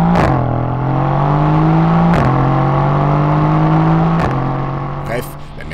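A Mercedes AMG GT S accelerating hard from close by, engine pitch climbing repeatedly through three sharp gear changes before easing off as a brief voice cuts in at the end.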